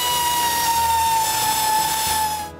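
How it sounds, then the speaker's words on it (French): An improvised right-angle drill bores into wooden joists, a loud steady high-pitched motor whine with grinding load changes, cutting off abruptly at the end. "J'improvise une perceuse à angle pour faire ça."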